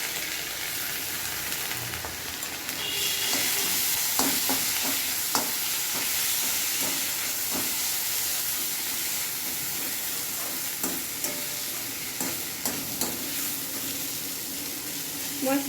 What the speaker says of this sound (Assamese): এতিয়া মই ইয়াতে চাউলখিনি ভাজি ল'ম।